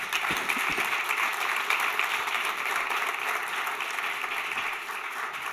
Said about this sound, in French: On peut de nouveau vous applaudir.